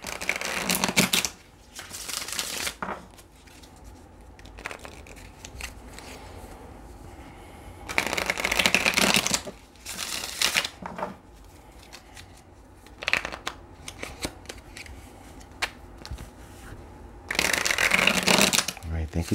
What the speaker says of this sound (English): Right to the flipping of cards.